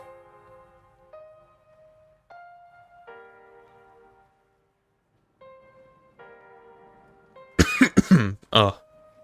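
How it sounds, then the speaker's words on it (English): A man coughs several times in quick, harsh, close bursts near the end, after soft tones from a game's music. "Oh, apologies, I'm coughing."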